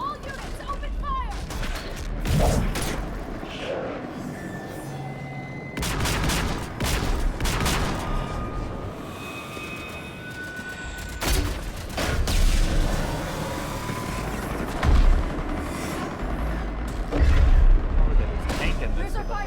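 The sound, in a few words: gunfire in battle from video game Mass Effect 3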